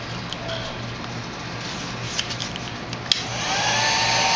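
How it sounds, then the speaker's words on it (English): A heat gun blows a steady, whooshing stream of hot air onto black heat shrink tubing on LED strip light wire leads, with a low hum beneath and a few small clicks and taps, the airflow growing louder toward the end. "I'm gonna take my heat gun."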